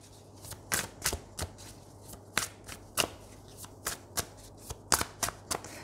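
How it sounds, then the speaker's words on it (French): Tarot cards being shuffled by hand, a series of crisp, close riffling flicks in an uneven rhythm, quiet setting with no talk. "on va prendre d'autres cartes"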